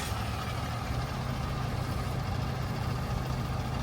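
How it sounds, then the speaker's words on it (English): A Ford F550 4x4 bucket truck with a 6.7 Powerstroke turbo diesel idles with a steady, rumbling low drone and constant hiss, close and unchanging throughout. "So we're going to start the truck up now."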